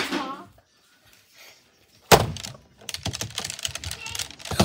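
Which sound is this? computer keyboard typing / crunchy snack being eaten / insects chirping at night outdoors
computer keyboard typing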